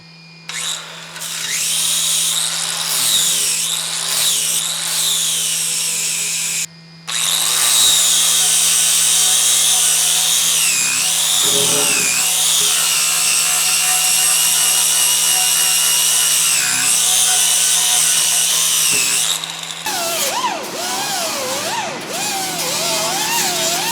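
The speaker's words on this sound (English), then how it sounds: "we're going to be sanding this off next" A power sanding tool whines loudly and continuously on metal, its pitch wavering as it grinds against the hard surface, with a brief pause before it starts again.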